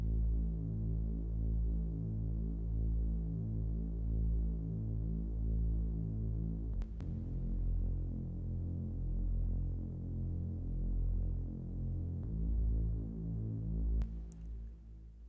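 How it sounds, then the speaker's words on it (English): Thick, detuned synth sub pad from hardware synths for a classic trance track, with reverb: a dense, low, sustained throbbing drone that holds steady throughout, with brief soft clicks near the middle and end. "sort of detune each oscillator against each other, so it really creates a nice thick sub pad sound"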